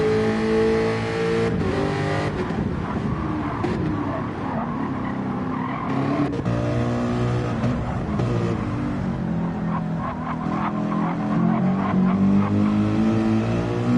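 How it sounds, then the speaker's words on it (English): A Corvette's V8 roars in a Gr-3 class racing video game, revving and shifting continuously with tire squeal and skidding, loud and close for the whole stretch with no talking. "Much more visceral sound from the V8 of the Corvette"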